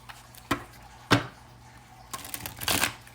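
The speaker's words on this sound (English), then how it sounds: "So let's shuffle these cards" Tarot cards are shuffled in a few short riffling bursts and soft taps, close up and fairly quiet, with pauses between.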